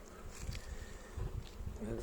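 Honey bees at a hive beside buckwheat, a low buzzing hum of many insects close by, faint and steady with small swells over a couple of seconds.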